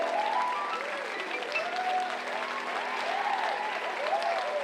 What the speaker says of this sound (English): a big round of applause for our new chairperson